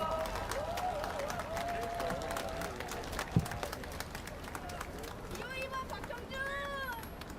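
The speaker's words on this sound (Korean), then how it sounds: "여러분 크게 환영의 박수 부탁합니다" A crowd at an outdoor campaign rally in Busan claps in a loose, scattered patter, with cheers, children's voices and general chatter mixed throughout and a brief sharp knock partway.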